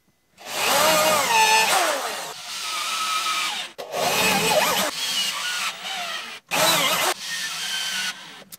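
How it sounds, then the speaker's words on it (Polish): A power drill fitted with a confirmat bit bores into a furniture board while a drawer is being assembled, giving three loud bursts of whining, grinding drilling separated by short pauses. "Wiertło do konfirmatów."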